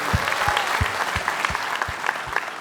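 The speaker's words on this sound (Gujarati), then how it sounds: "એમના માટે તાળીઓ થઈ જાય, કમ ઓન." Studio audience claps for film director Abhishek Jain on a Gujarati comedy show, a steady, dense round of applause with sharp individual hand slaps and a soft crowd murmur underneath.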